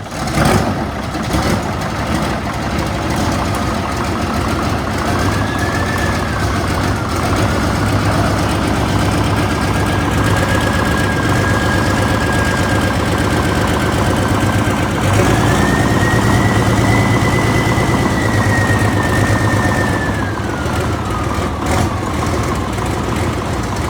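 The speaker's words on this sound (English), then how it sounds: "Here's an 88 row crop. It's a diesel, but we're gonna start it up and listen to it run." An Oliver 88 row crop tractor with a Cummins diesel conversion runs steadily nearby, its low engine drone holding even for the whole stretch, with a brief rise in revs midway and no talking.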